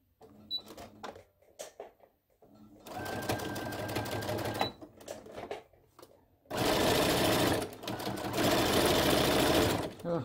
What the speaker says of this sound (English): So I'm going to sew on that line.